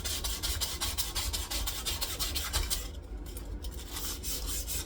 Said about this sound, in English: We're just going to give this, like I said, a light sand.